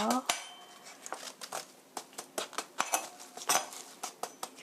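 Young radish stems are tapped on a hard kitchen surface to even their length for kimchi, giving a brisk run of sharp knocks and clatters in an uneven rhythm, close up, with no voices.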